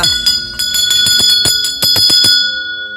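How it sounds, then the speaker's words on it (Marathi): A temple bell at Tikleshwar near Marleshwar rings out in a quick series of about ten clear metallic strikes, close and loud, with a long shimmering ring that fades at the end. "घंटी वाजवलेली आहे"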